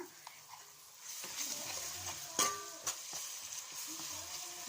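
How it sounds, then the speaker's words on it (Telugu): Wet masala sizzles steadily in a pan for fish curry, a soft constant frying hiss with a few clicks of stirring, quiet and close with no talking. "ఇదైతే బాగా ఫ్రై అయిపోవాలి."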